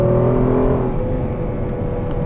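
A Kia Stinger GT on a race track accelerating hard at full power, a loud, steady engine roar with a rising drone throughout, heard from inside or close to the car.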